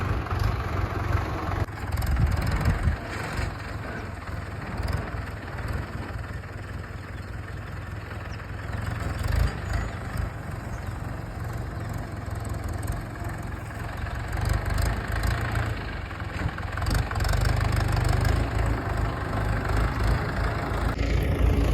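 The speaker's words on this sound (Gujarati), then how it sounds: "ટ્રેક્ટર લઈને આવે છે ને મારે હાંકવું છે" A steady, low tractor engine rumble idles throughout, close and continuous with slight fluctuations in loudness.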